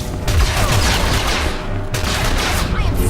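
Blaster fire in a Star Wars: The Old Republic battle on Corellia, loud rapid bursts of shots that run continuously through the scene with booming impacts underneath.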